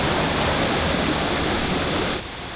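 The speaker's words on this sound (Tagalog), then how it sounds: "Ito yung tubig galing falls." Waterfall water rushing loudly and continuously at a tourist spot in Baler, Aurora, a broad steady roar that drops noticeably quieter near the end.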